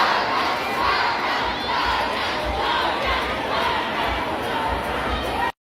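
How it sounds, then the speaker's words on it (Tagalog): Thousands of fans at a crowded mall show for a reality-TV pair scream and cheer in a loud, continuous roar, a dense wall of shrieking voices that holds steady before cutting off abruptly. "Grabe naman kasi ang sigawan at hiyawan nga nitong mga fans ng Jarpiang."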